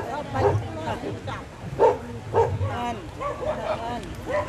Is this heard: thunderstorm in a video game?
no